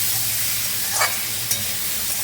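Fried taro pieces go into a pan of cooked spice masala and fry with a continuous close sizzle, broken by a couple of brief scraping stirs of a spatula.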